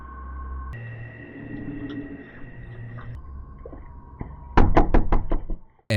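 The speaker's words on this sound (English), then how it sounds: "The stalker enters his home after banging on the window and knocking." A stalker knocks on a door, a quick run of about six loud, sharp raps close by that cut through a droning, eerie background tone.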